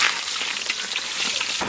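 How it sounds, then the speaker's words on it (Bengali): Bay leaves hit hot oil left over from frying fish for a Bengali pomfret mustard-poppy seed dish, giving a loud, steady, close sizzle with crackling bursts throughout and a brief fresh spurt at the very end. "মাছ ভাজার তেলের উপরে তেজপাতা দিয়ে দিলাম"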